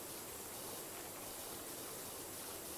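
Steady, even hiss of a pressure washer spraying in the video game PowerWash Simulator, a continuous broadband rush with no breaks, close and fairly quiet.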